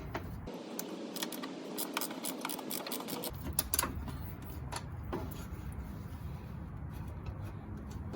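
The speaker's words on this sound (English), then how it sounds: "use your 10mm socket wrench to remove those 10mm bolt that's holding the fog lamp housing" A 10mm socket wrench ratchets out a fog lamp housing bolt on a 2003 Suburban, with rapid, close, light mechanical clicks repeating in uneven bursts over several seconds.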